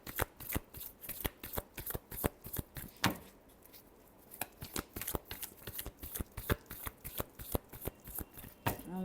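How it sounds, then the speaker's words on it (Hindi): Tarot cards shuffled by hand, a quick series of sharp riffling snaps and slaps in an uneven rhythm, close and fairly quiet, with a brief pause near the middle and no talk. "Last shuffle."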